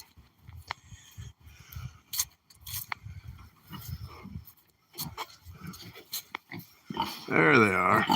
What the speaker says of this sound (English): Might be wondering where the pigs are.